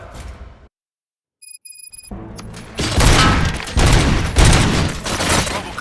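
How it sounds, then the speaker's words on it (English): A rapid burst of video game gunfire with heavy booms erupts after a brief silence and some electronic beeps, loud and continuous to the end, from Robocop: Rogue City. "Gunshots? What's going on?"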